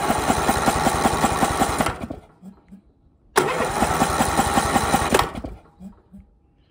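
An engine cranks twice without catching, each attempt a steady mechanical whirring churn lasting about two seconds, then dying away into faint ticks before the second try; close and fairly loud.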